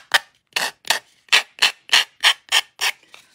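The edges of a wood cube for home décor are sanded with about nine short, rasping strokes in a steady rhythm, close and fairly loud, with no talking.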